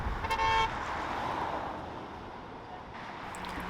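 A car horn toots briefly near the start amid steady road traffic noise during a roadside show of support for Fairy Creek, then passing vehicles hum on with a faint later beep.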